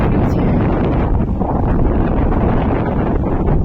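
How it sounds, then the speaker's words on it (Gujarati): Steady, loud wind over open farm fields buffeting the microphone outdoors, a continuous low rumbling roar with no voices. "કેવો મસ્ત પવન આવે છે"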